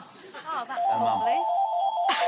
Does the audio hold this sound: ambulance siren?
no